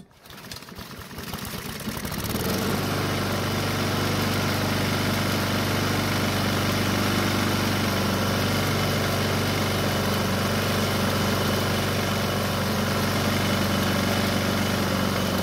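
A Honda lawn mower engine, freshly fitted with a new OEM spark plug, starts after a brief rough cranking and then settles into a steady, loud, continuous running drone with a constant hum and no talk.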